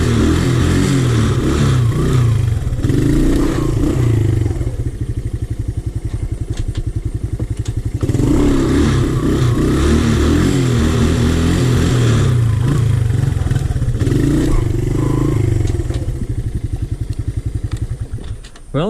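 A Honda TRX 125 ATV engine revs hard while being ridden, running loud and close in repeated surges of acceleration and easing off, with clattering and thumps from the ride and no speech.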